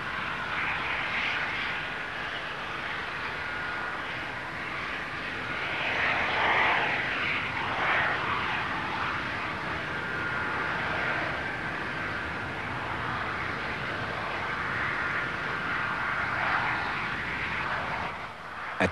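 A Boeing 747 carrying a space shuttle on its back takes off, its jet engines producing a steady, broad roar that swells slightly midway and holds strong throughout, with no voices.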